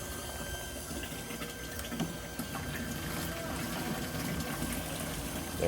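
Water pours steadily from a solar-powered drinking water filter waterfall on an island, a continuous close wash of splashing with faint outdoor background.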